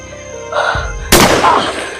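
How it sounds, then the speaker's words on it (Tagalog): Outdoors among trees at sunset, a muffled distant bang is followed by a much sharper, louder gunshot crack that rings out and fades. "Ang daming putok."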